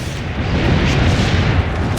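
A cannon fires again in the Assassin's Creed Brotherhood video game, a deep rumbling boom that swells into a loud sustained roar of battle noise for about two seconds.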